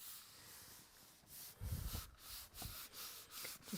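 Rubbing down a surface by hand makes a soft, faint scratchy friction sound, quiet and close, with a few rhythmic strokes growing slightly firmer toward the end.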